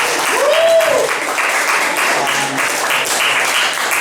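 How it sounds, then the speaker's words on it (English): A pub comedy crowd at an improv night applauds loudly and steadily in a thick, continuous roar of clapping, with a brief whoop early on. "Please, round of applause for them."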